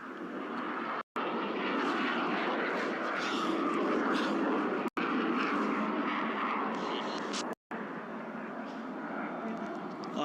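Boom XB-1 supersonic jet aircraft in flight, a steady broadband engine roar heard at a distance, briefly cut by short dropouts, with talk over it.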